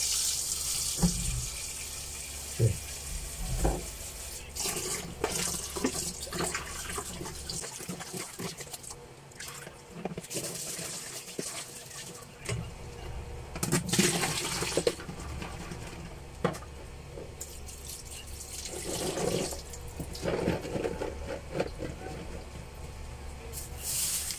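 Food from the market, including calamansi, is rinsed under a running kitchen tap, with water splashing and patter into a sink, handling clatter, and someone talking over it.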